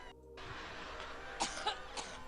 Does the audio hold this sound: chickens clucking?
no